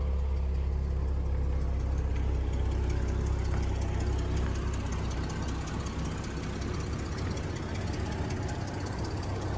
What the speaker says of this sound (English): It's a lovely sounding engine.